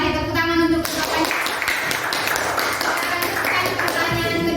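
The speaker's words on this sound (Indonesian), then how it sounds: "Tepuk tangan untuk pertanyaan" Clapping from a school audience at an OSIS student council candidate debate, a dense patter of hands filling the room, loud and steady with some background chatter mixed in.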